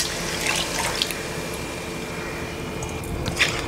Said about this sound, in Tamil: இந்த வேக வச்ச மட்டனை இதில் சேர்த்துடலாம்.